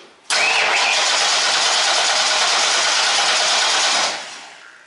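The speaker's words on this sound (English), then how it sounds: "And we'll crank it over and see what happens." A car engine cranks over continuously for about four seconds during a compression test, a loud steady mechanical churn that starts abruptly and stops without the engine catching.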